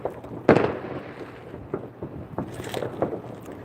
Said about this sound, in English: all the fireworks you're hearing and seeing in the air, those are all illegal